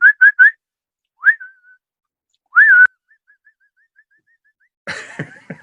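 Someone whistles the opening theme of The Andy Griffith Show in short bright phrases separated by pauses, with a faint trailing whistle, then a burst of coughing or laughter-like noise at the end.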